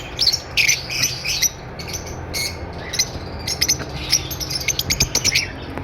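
Lutino personata lovebirds, a breeder pair, give repeated shrill squawks and chirps in short bursts, set against a busy bird-market background with steady low hum and other distant calls.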